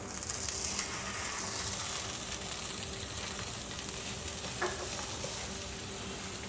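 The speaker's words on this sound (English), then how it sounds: "we're just going for a nice quick sear, usually about 30 seconds" A blackfin tuna steak searing in a hot pan, a steady close hiss of oil with a faint clink partway through, no speech.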